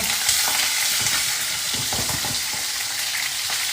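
Chillies, tomatoes and shrimp paste frying together for sambal terasi, a loud continuous sizzle close by with scraping stir strokes throughout, no voices.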